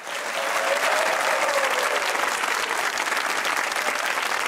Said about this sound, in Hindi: अगर आप लोग भी दूसरों को खुश देखना चाहते हैं तो तालियां बजाइए